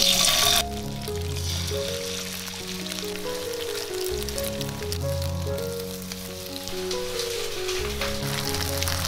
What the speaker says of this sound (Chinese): 把腌好的鸡胸肉放下来煎